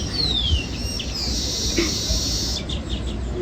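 Sparrows chirping and tweeting in short bursts, with a high sweeping call and light background noise, no talking.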